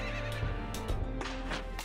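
Horses neigh and whinny amid dense, busy battle sound in a strategy video game with chariots, several short whinnies rising over a constant din.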